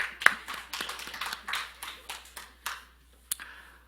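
A church congregation claps during a Sunday sermon: a sparse, uneven scattering of hand claps, moderately close, trailing off over a few seconds.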